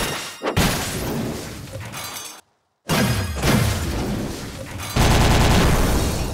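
Rapid enemy gunfire in the game Sea of Stars, dense loud crackling bursts with shattering impacts, cut by a brief dead silence before resuming even louder and more rattling toward the end.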